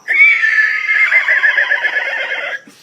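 A man imitates a horse neighing with his voice, giving one long, loud whinny that holds for over two seconds with a wavering, tremulous quality toward the end before stopping.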